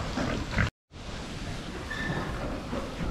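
Pigs on a farm grunt faintly amid a noisy, rushing outdoor background, with low snuffling sounds spread across the few seconds and a short silent break near the start.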